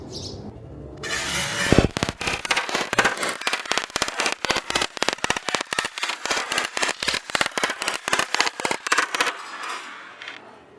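A Tokyo Marui M4 airsoft rifle fires on full auto, a long rapid string of sharp, evenly spaced cracks lasting about nine seconds, loud and close, after a brief lead-in.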